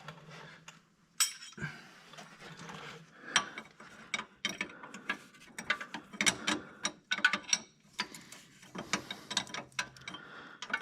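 A ratchet clicks in irregular bursts while bolts on a 2006 Chevy 2500 HD steering box are tightened. The clicking is close and fairly faint, with short pauses between strokes.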